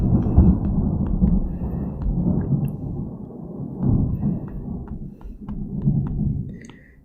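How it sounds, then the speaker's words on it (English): Deep, rolling thunder outside during a storm, rumbling low and continuous with several swells and fades, with faint rain ticks on top. "today's thunder is quite bad, I think."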